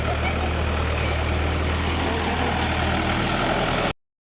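A tractor engine runs steadily outdoors with a continuous low rumble and broad noisy roar, fairly loud and unbroken, cutting off abruptly near the end.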